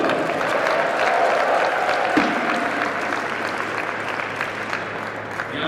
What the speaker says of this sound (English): Round of applause for Marino.